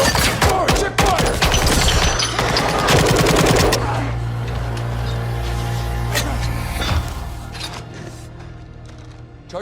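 Machine gun fire in Call of Duty Modern Warfare 2, loud rapid bursts of close automatic shots over the first few seconds, then a few scattered shots and a lingering rumble of the fight, with no talk.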